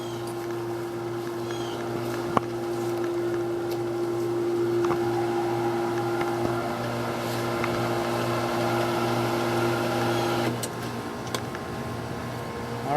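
Pool hose system pump running at a pool inspection, a steady low mechanical hum with tonal whine held constant throughout, with occasional faint clicks.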